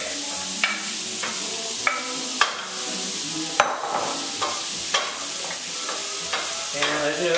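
Shrimp with garlic frying in butter or oil, a close, steady sizzle broken by repeated clacks and scrapes of stirring in the pan, no voices.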